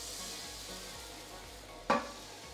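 Coca de Fira, a Valencian flatbread, sizzles and starts to burn in a frying pan, a soft continuous crackle with a few low scrapes and one sharp clatter near the end.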